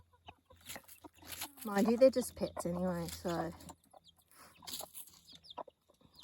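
Pet Sebright hens in a pen give soft, close clucks and murmurs in a short run, with a person talking quietly before and after.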